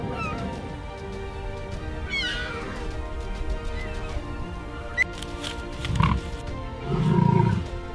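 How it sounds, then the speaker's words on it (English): Young lion cub giving high, meow-like calls in open wild landscape, several short rising cries scattered over steady background ambience, with a louder low rumble near the end. "The cub experiments with early vocal sounds."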